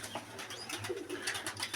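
Young and old pigeons coo softly in a loft full of nesting birds, low throaty murmurs overlapping with faint rustles and chirps nearby.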